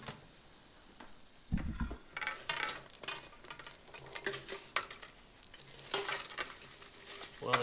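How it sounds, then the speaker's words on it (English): Crispy air-fried chicken wings in a Power XL air fryer clattering against the metal basket and each other, with soft irregular taps and rattles, close and fairly quiet. "they sound crispy just by the way they sound hitting the metal and each other"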